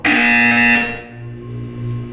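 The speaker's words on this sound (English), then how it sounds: "When you hear the buzzer, look up at the ceiling" A loud electronic buzzer from the video game Portal 2 blares as a steady, harmonic tone for nearly a second, then drops away to a quieter lingering hum.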